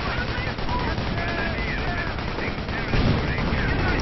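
Rifle grenades and rifle and machine-gun fire crackle through a World War II battle in Company of Heroes, with dense, rapid overlapping shots and bursts and a heavier blast near the end.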